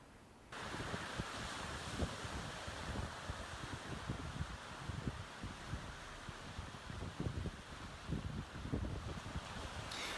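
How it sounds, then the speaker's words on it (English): On a beach in Vietnam, wind and surf roar steadily, with wind buffeting the microphone and a continuous wash of waves that rises and falls slightly throughout, with no voices. "This is a walk down a beach in Vietnam"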